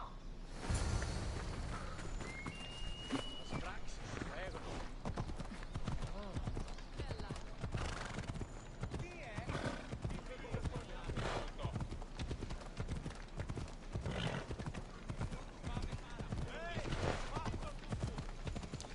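Horse hooves clip-clop in a fast, steady gallop during a race in Assassin's Creed Odyssey, loud and continuous across the whole stretch, with a brief whinny near the start and game sounds mixed in.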